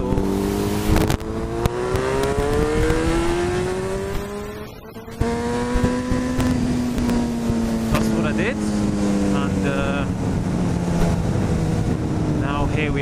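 A Yamaha FZ6 motorcycle revs hard inside a tunnel, its engine note climbing and falling in repeated sweeping pulls that echo loudly, with a short drop near the middle and wind rush throughout.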